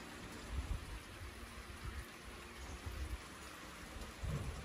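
Light evening summer rain falls outdoors as a soft, steady hiss, with low muffled rumbles and patters rising now and then, fairly faint and without voices.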